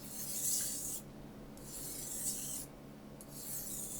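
An old Wusthof knife drawn along a sharpening surface in three long, bright rasping strokes with short quiet gaps between them, fairly close and with no talk.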